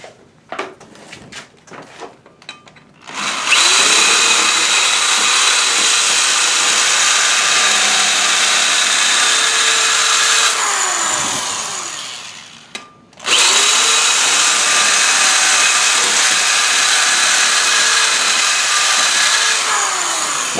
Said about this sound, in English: So, I'm going to use this 1999 drill.